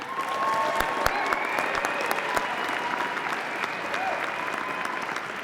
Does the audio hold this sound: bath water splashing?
no